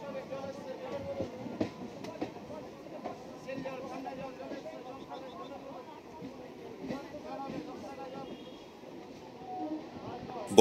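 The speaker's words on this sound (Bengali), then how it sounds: "আমরা কাঁচরাপাড়া স্টেশন ছেড়ে বেরিয়ে যাচ্ছি।" Shantipur local train pulling out of Kanchrapara station, a steady rumble of wagons with rhythmic clickety-clack from the wheels, heard from inside the moving train with voices faintly in the background.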